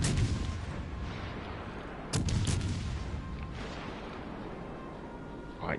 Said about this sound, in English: Oh god, he's gonna fire another volley.